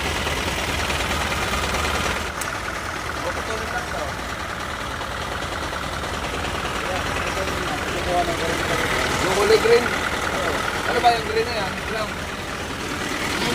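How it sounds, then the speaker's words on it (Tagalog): A truck engine idles with a steady rumble throughout, loud and close, with faint voices murmuring underneath; the engine's sound has changed after driving through floodwater. "Ayun, nag-iba tunog ng makina."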